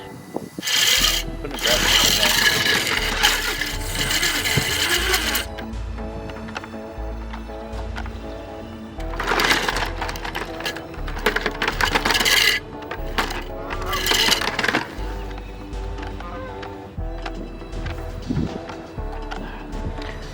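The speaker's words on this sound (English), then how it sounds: "So let's turn on the motors and we'll see how it works." Drive motors of an electric lawnmower chassis whine and rattle in several bursts, with steady low humming between them and a few quieter pauses, fairly close.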